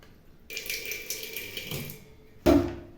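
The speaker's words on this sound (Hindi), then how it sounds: "थोड़ा सा पानी डाल लेते हैं पतीले के अंदर" Water runs and splashes into a metal cooking pot for over a second, then a sharp clank of metal against metal follows.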